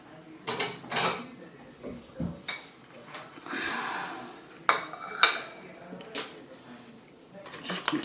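Metal cutlery rattling and clinking as a knife is fetched from a kitchen drawer, a run of sharp bright jangles and knocks, close and fairly loud, with someone talking between them.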